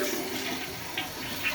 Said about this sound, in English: we're gonna flush and see if we get any mess on the floor.